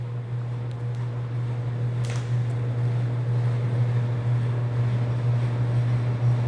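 BWS 80 HD industrial-grade wire recycling machine stripping the coating from 1/4 inch copper cable, a steady loud mechanical hum running throughout with a brief sharp crack near the start.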